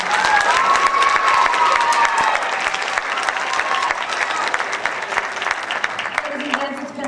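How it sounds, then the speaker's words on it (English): Enthusiastic audience applause at a high school winter band concert, loud sustained clapping from a large crowd with scattered whoops, tapering near the end as a voice begins. "Give them another huge round of applause."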